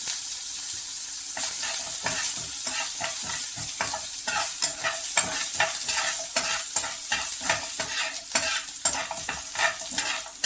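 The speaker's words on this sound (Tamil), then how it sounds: "இது எல்லாமே சிம்மில் வச்சே வதக்கலாம்" Chopped ginger sautés in a pan on a low flame for kuzhi paniyaram, with a loud constant sizzle broken by quick, regular spatula scrapes and stirs close by, and no talking.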